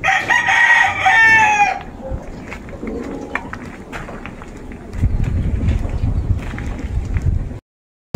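Chickens in a home garden: a loud rooster crow opens, followed by scattered clucks and rustling, then a stretch of heavier low scuffling noise before it cuts off abruptly.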